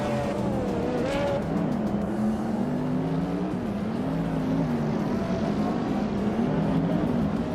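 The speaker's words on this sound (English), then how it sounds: "Lian Yashin behind the wheel of a 2007 SC Ultimate Aero Twin Turbo" A 2007 SSC Ultimate Aero Twin Turbo race car engine drones steadily, its pitch rising and falling as it revs through gears, loud and continuous throughout.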